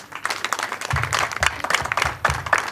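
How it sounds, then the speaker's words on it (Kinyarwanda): Wedding guests applaud in a lively burst of clapping from a crowd nearby, with voices mixed in and steady rhythmic claps throughout. "Mumuha amashyi ijambo."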